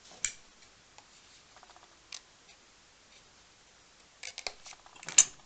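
Scissors cut out a paper box lid in sparse, faint snips and clicks close by, with a busier cluster of cuts toward the end.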